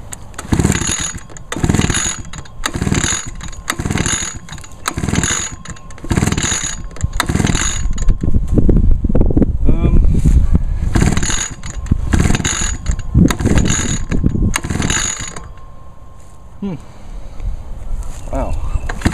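Repeated pull-start cord yanks on a piece of Echo gas-powered outdoor equipment, a steady run of ratcheting, whirring rasps about every half second, close and loud, until the pulls stop near the end and the engine does not catch.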